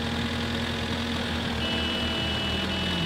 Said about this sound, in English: This tractor needs more gears.